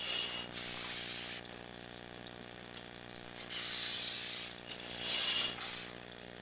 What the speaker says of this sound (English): So water's flowing through pretty good.